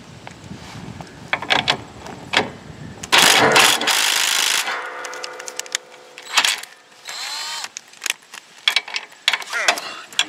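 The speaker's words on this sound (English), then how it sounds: "get my impact, and see if I can break loose the nut at the base of that steering shaft" An impact wrench fires in sharp hammering bursts against the nut at the base of a John Deere lawn tractor's steering shaft, with clicks and ratcheting between the loud rattling runs, close up.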